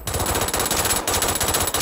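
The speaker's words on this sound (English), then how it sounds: "Short controlled burst," Automatic gunfire in the video game Brink comes in short, rapid, loud bursts with a brief pause in the middle, close and dense, without talk.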